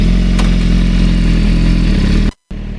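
A BMW S1000RR fitted with a Vandemon titanium exhaust drones loud and close at a steady engine note, then cuts to a brief silence before the engine sound resumes.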